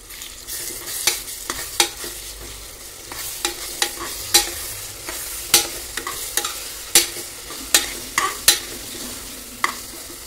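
Ground masala paste is sautéed in a large pressure cooker for chicken dum biryani, with a spatula scraping and knocking against the metal in steady, irregular strokes over a low frying sizzle, close and fairly loud.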